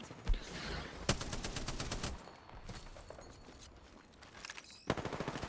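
Rapid automatic gunfire from an Apex Legends match rattles out in dense bursts, with sharp loud volleys at the start, near the one-second mark and again near the end, leaving a busy rattling din in between.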